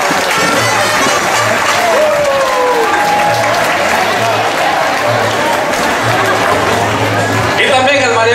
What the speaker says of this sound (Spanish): recibamos con un fuerte aplauso a nuestro alcalde, el doctor Francisco Salvador Iresi